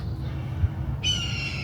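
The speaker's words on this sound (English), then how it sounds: "it's a falcon" A falcon calls at an abandoned speedway, a single harsh, strained cry breaking in near the end over steady low outdoor rumble.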